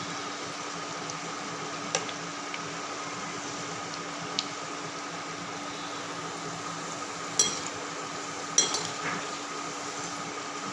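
Moong dal (paasi paruppu) vadas deep-frying in hot oil give a steady, soft sizzle throughout. A few sharper pops and crackles stand out, two of them near the end, and no one speaks.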